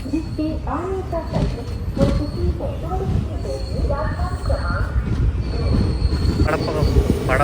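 Vasco da Gama Express pulling away and rolling, wheels squealing in thin, wavering high tones over a steady broadband rumble, with voices speaking intermittently close by.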